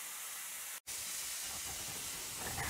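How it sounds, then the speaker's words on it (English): A hamburger patty frying in a pan gives a steady, soft sizzling hiss, with one abrupt momentary dropout early on before the sizzle resumes. "So our hamburger is frying."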